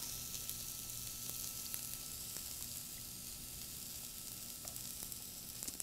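Garlic and onions sizzle in a frying pan with oil, a steady, dense crackling hiss that stays even and close throughout, with a faint stir or clink now and then.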